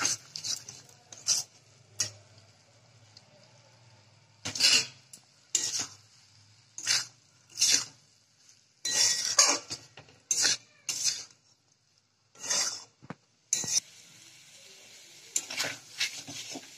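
Broccoli being stirred into spiced potatoes in a pan, with intermittent scraping and clattering strokes of a utensil against the pan over a faint background sizzle, in irregular bursts.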